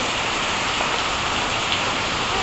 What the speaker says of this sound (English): it's raining pretty good out there